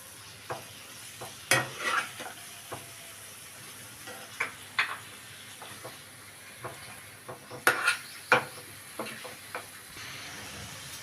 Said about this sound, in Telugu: మసాలా వేగిన తర్వాత టమోటా ముక్కలు వేస్తాను